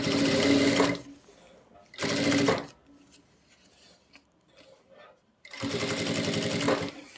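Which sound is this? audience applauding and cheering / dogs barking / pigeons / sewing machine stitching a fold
sewing machine stitching a fold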